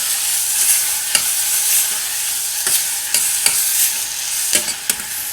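Tomatoes sizzle steadily in a pot of fonio jollof, with a spoon scraping and knocking against the pot in irregular stirring strokes, close and alone without speech.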